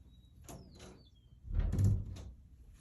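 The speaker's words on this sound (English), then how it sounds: "just need to close the door so you don't hear too much background sound." A door is shut indoors, with soft handling and sliding noise followed by a heavier dull thud near the mic, then quiet.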